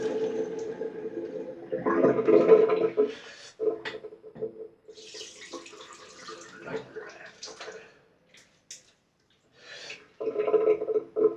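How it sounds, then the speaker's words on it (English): Water splashes and sloshes at a bathroom sink as someone rinses soap from their face, coming in close, uneven bursts with short pauses between handfuls. "I'm just going to keep rinsing my face."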